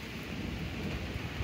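Daytime thunderstorm heard as a steady, loud wash of rain with low rumbling underneath, continuous throughout with no voices.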